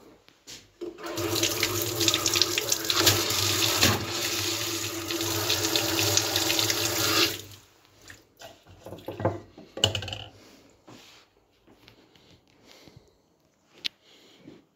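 Water runs steadily from a kitchen tap into a sink for several seconds, fairly close and loud, then stops, leaving faint clinks and small household noises.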